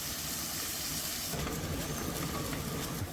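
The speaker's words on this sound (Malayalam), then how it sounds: "ചെറുതായിട്ടൊന്ന് വറുത്തെടുക്കാം" Foxtail millet rice roasting in a pan with pepper and cardamom, a steady hissing sizzle that grows louder and denser partway through and continues close and unbroken.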